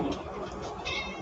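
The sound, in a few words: cat meowing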